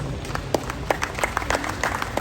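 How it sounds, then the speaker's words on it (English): A room of people clapping at a Toastmasters club charter ceremony, dense overlapping claps with distinct sharp hits scattered through, steady and moderately loud. "There are 3 clubs who deserve a round of applause from all of us."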